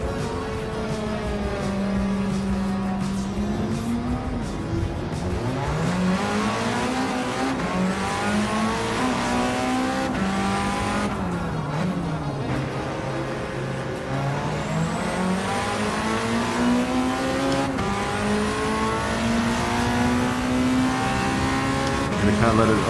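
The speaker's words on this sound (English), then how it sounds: "Gonna kind of let it over rev to get into that optimum power range" A Toyota MR2 in Gran Turismo 7 revs hard, engine pitch climbing and falling through gear changes and held high past its ideal range, a continuous loud race-car drone throughout with occasional tire noise.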